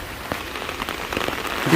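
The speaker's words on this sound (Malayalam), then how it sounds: "മഴ പെയ്തു നല്ല മഴയായി" Steady rain patters on a hard surface, a dense wash of drops with a few sharper splashes, growing slightly louder toward the end.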